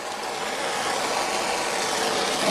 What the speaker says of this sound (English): with just a gentle heat from a propane torch, not any kind of MAP gas torch or anything like that